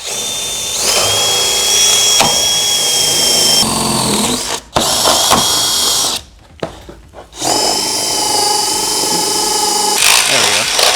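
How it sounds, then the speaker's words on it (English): A power drill whines steadily at high speed, biting through the metal floor of a Ford Transit van with brief pauses and dips in pitch, loud and close, with a couple of short stops. "I'm going to choose the outside one here and drill down into the van"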